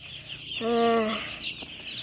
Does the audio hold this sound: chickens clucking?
yes